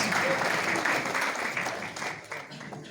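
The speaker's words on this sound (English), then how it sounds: "Let's give him a round of applause." Hall audience at a TESOL conference claps for the master of ceremonies, a full, even burst of applause held steadily for a few seconds before starting to thin.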